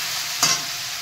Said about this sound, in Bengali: এবার কচুগুলো দিয়ে এবার তেলের উপর ফ্রাই করে নেবো